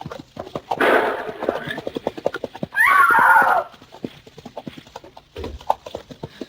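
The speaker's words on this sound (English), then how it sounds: "I will shoot your horse, Diane!" Radio drama sound effects of a horse: rapid clip-clopping hooves at a gallop followed by a loud, shrill neigh, with voices speaking around them.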